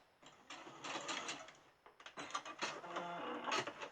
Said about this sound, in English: And then I'm going to do a little back stitch.